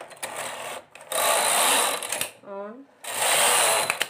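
A knitting machine stitching a sweater makes rasping, whooshing sweeps as the carriage runs across the needles. There are three long passes with short pauses between them, and a voice speaks briefly in one gap.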